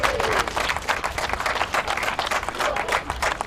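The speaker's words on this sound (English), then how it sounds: "Another round of applause" A crowd at a racing prize-giving claps loudly and continuously, the individual hand strikes dense and fairly close, with a few distant voices mixed in.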